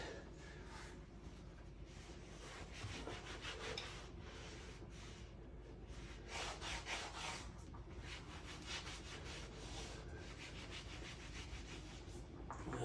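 A kitchen floor is wiped down after scrubbing, producing faint, rhythmic back-and-forth rubbing strokes that carry on steadily throughout.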